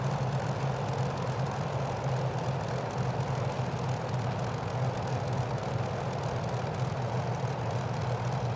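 A P-51D Mustang's propeller engine idling at 1500 RPM after landing in a flight simulator game, a steady low droning rumble with no breaks, holding even and moderately loud throughout.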